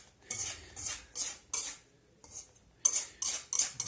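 A spoon clinks and scrapes in a bowl while flour and yeast are stirred together, in quick bursts of rhythmic tapping separated by short pauses, close and fairly quiet.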